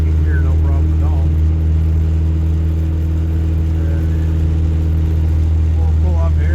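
A Dodge Challenger with a Mitsubishi 2.6 4G54 engine cruises in second gear, its steady mid-pitched engine drone and whir sustained loudly throughout from inside the car, with brief faint chirps above it.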